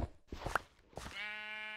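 A single Minecraft sheep bleats near the end, a short steady nasal tone after a few soft blocky thuds and footsteps in the game.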